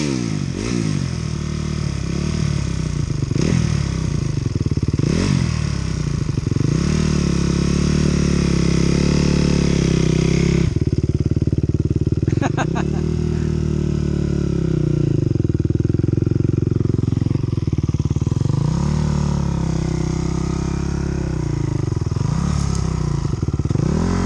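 A kick-started motorcycle engine runs loud and close, revving again and again in rising and falling sweeps over a rough, clattering idle.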